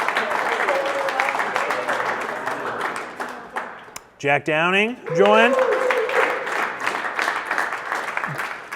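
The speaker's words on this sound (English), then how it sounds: "Round of applause." Staff applaud new team hires at an all-team company meeting, a steady patter of clapping from a small crowd that dips briefly while a voice speaks, then swells again.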